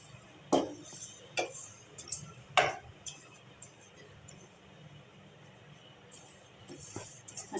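A spoon stirs spices and sesame seeds roasting in a pan for Hyderabadi bhagare baingan, giving sparse metallic clinks and taps with soft scraping between them, fairly quiet and close.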